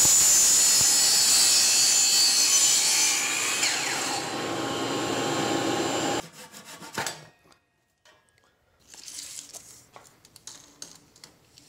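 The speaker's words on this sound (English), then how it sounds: "I'll have to do those by hand with a handsaw." Handsaw cutting 45 degree angles into 2x6 wood, a steady rasping back-and-forth stroke for about six seconds, then quieter scattered scrapes and knocks with pauses.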